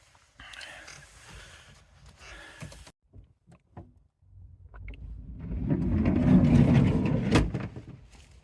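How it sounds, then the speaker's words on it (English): Mechanical clicks and thuds of van doors being opened, followed by a rising rumble of a nearby car engine. "I opened the van doors"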